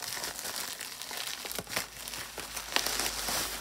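A plastic shipping package from a jewelry auction lot is cut open, producing close, quiet crinkling and rustling with a few sharper snips and tearing sounds.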